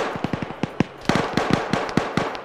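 Rapid bursts of gunfire crack out in a military video game set in Afghanistan, with irregular clusters of sharp shots close at hand, rising to a denser, louder run of rounds in the second half.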